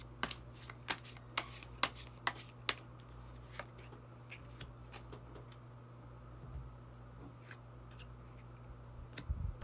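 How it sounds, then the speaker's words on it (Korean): Tarot cards drawn and handled from a deck, a series of sharp, close paper snaps and flicks, clustered early and then sparser, over a quiet room hum with no talking. "그러면 마지막으로 히든 카드 한 장 더 뽑아보도록 하겠습니다"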